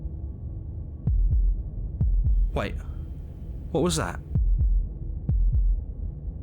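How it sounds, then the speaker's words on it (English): Low, thudding heartbeat pulses repeat at a steady rhythm, quite loud and close, within the game Slay the Princess, with a voice speaking briefly over the beats. "That was the sound of a heartbeat,"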